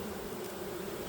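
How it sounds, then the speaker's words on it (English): Honey bees buzz close up on a hive frame lifted from a backyard hive, a steady, dense drone that stays constant through the short moment with no talking. "Just shake the bees off."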